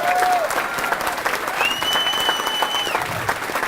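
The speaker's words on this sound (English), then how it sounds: "Big round of applause for these men." Luncheon audience at a Wounded Warriors in Action fundraiser applauds Purple Heart veterans, a steady wash of clapping from a room of people, with a brief tone and a faint voice over it.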